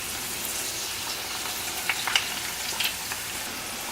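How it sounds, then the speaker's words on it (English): Hushpuppies frying in hot oil until golden brown, a continuous soft sizzle with a few brief crackling pops near the middle, close and without voices. "fry them until they're golden brown"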